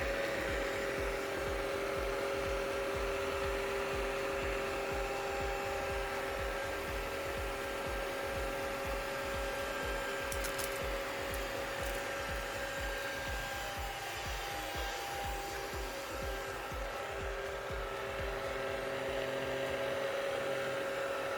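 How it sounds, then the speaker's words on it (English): A UWANT V500 cordless vacuum cleaner runs steadily along baseboards indoors, its continuous close motor whine and airflow hiss with a low rubbing texture from the nozzle moving over the floor edge. "I'm going to run the V500 directly along the baseboards."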